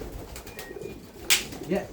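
Young racing pigeons arriving back from their first 123 km flight give soft cooing calls and a brief burst of wing or feather noise, with quiet background voices underneath.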